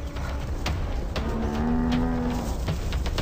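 African buffalo cows lowing in a group while fending off attacking lionesses, a loud, sustained deep moo rising mid-clip over a noisy outdoor background of scuffling and other calls.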